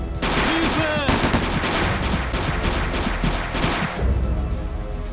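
Rapid bursts of gunfire in the video game Alekhine's Gun: loud, sharp, repeated shots in quick succession, with a voice briefly audible underneath.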